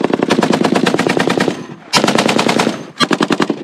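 Loud, close bursts of rapid automatic gunfire from a video game come in three volleys with brief pauses between, each shot sharply distinct in a fast, even rhythm.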